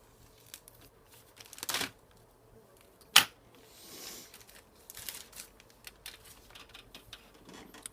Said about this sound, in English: let me find something with which to cut open these plastic bags